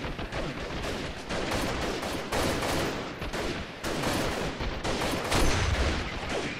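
Continuous loud gunfire in the wartime shooter game Freeman Guerrilla Warfare, with dense overlapping bursts of automatic fire and occasional heavier booms lasting throughout, close and unbroken, with no voices.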